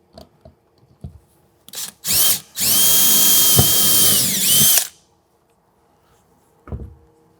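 A power drill drives screws into an RV slide topper during installation, with a short burst followed by a longer, loud sustained run of about two seconds, bracketed by faint handling clicks and knocks.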